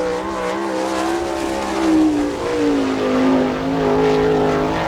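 A sprint car on a qualifying lap at Attica: a loud, close engine howl with strong harmonic tones that dip and swell as the car works through the turns, steady and unbroken with no talk.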